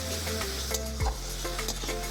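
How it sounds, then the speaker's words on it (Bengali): Ginger, onion and garlic sizzle steadily in hot oil for a chicken curry with potatoes, with a scrape of stirring near the middle, close up and with no talk. "আদা পেঁয়াজ রসুন ভালো করে কষিয়ে নেব না,"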